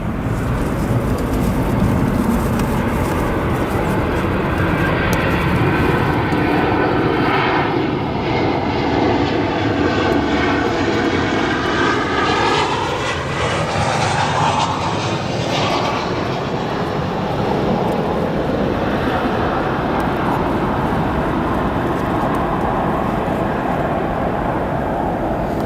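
A Boeing 737 jet touches down firmly at O'Hare airport, its loud engine roar and wind rush filling the whole span continuously, with a rising and falling swell of turbine tone through the middle; no voices.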